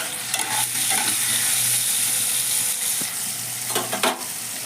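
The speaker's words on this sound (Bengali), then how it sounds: "আমি আলুটাকে লাল লাল করে সুন্দর করে ভেজে নিয়েছি" Potatoes frying in hot oil in a pan, a loud, dense, continuous sizzle heard up close, with a few stirring scrapes near the start and end.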